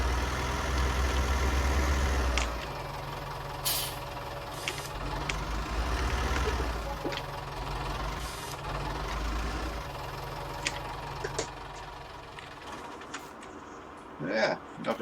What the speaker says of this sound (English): Yeah, not a bad little tractor.